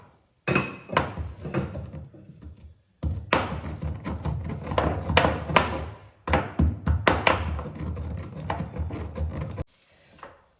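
Roasted ingredients for ginger thokku are crushed in a steady run of knocking, grinding thuds from a close mortar or grinder, in two long spells separated by brief pauses, with no talking over it.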